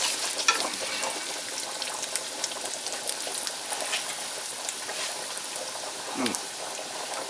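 Pan-frying with a steady sizzle while a utensil scrapes browned crunchy bits from the pan surface, close and continuous for several seconds, with a brief low voice sound near the end.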